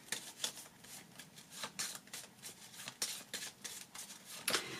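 Tarot cards being shuffled, laid down and handled on a table during a card reading, with a steady run of soft papery swishes and flicks, close and moderately quiet, no voice.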